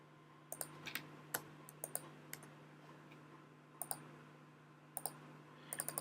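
Typing on a computer keyboard at close range, with scattered clusters of sharp key clicks and brief pauses between bursts over a steady low hum.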